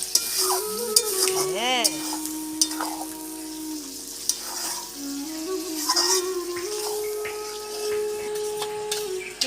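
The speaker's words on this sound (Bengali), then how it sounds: "অল্প জল দেবো, এই মশলার জলটা দিয়ে ভালো করে আমি কষিয়ে নেব।" Chicken in spiced water sizzles steadily in a pan while a spoon stirs and scrapes against it, with a brief word spoken over the cooking.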